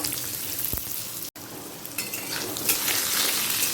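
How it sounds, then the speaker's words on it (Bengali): Potatoes frying in oil after cumin seeds were tempered in it, for a vegetarian papaya curry. They give a steady, close sizzle with scraping stir clatter and a short break partway through, and no one speaks. "আলুটা হালকা লাল করে ভেজে নেবো"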